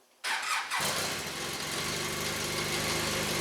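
An Arctic Cat XF9000 snowmobile engine, already warmed up, starts abruptly after a short silence and settles into a loud, steady, close idle rumble that continues without talking.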